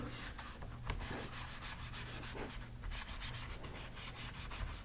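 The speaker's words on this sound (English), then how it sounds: "just gonna apply some soap, make it look brand new" A bar of soap is rubbed steadily over a newly handmade leather pocket quiver, a continuous dry scraping friction, close and fairly quiet.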